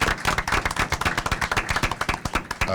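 A small group at a board of education meeting claps for a student presentation: a quick burst of sharp, uneven hand claps, fairly close, with no talking over it.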